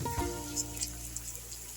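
Onions and fenugreek leaves fry in a pan with a steady, close crackling sizzle, faint spits popping over a continuous hiss, alone with no voice.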